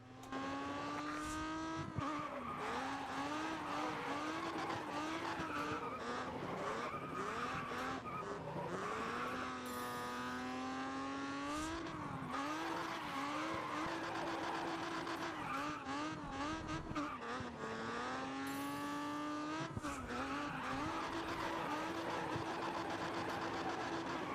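Race cars in the mobile game Grid Autosport drift through corners, engines droning steadily with repeated long tire squeals and skids over a continuous, loud race lasting the whole stretch, no talk.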